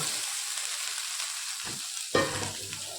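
Green peas hitting hot oil tinted with turmeric give a steady close sizzle, with a sharp burst of frying as they go into the pan partway through, then continued crackling.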